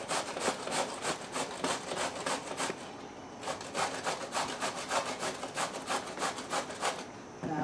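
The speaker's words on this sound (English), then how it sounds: "Just going to use the grating part and shred it up" Zucchini is shredded on a box grater, making fast repeated scraping strokes in an even rhythm, close and fairly quiet, with a short pause partway through.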